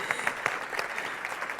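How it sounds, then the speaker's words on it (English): An audience gives a round of applause at a young leaders' awards event, steady clapping with a few sharper claps standing out, moderately loud and with no talk over it. "a round of applause for Judy"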